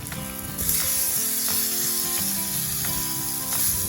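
Thick cuts of meat sizzling steadily in a pan over a camp stove at a seaside campsite, a loud continuous hiss with faint crackles and occasional scraping, no voices.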